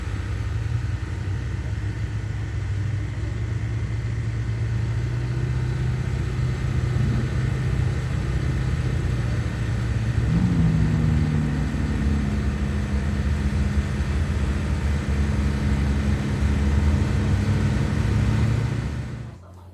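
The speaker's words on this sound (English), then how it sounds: "There's been quite a few cars firing up." Engines rumble steadily at a car show and drag event, a continuous low idling drone with one engine rising in pitch partway through, moderately loud with faint background voices.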